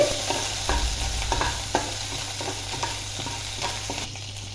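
Crushed green chili paste stirred into a hot pan, with a steady sizzle and repeated scraping strokes from a spoon or spatula, close and fairly loud, no voices.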